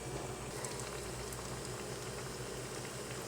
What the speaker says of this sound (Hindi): और भी पकौड़े हमारे फ्राई हो रहे हैं।